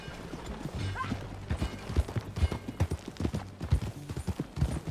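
Horse hooves clip-clop at a riding pace in Red Dead Redemption 2, a close, uneven series of thuds that quickens and grows louder, with a faint whinny early on.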